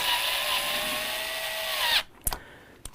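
Power drill driving screws into a dishwasher's junction box cover, a steady whir lasting about two seconds before stopping, followed by two brief clicks.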